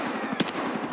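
Gunfire in the video game Escape From Tarkov Arena gives one sharp, close shot crack within a second of dense, noisy background.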